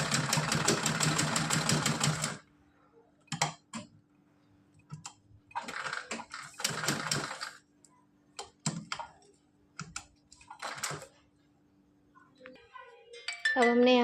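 A sewing machine stitches cloth for a small festival dress for a Kanha idol, running in a steady burst at the start, then short intermittent runs with handling noises, close and fairly loud.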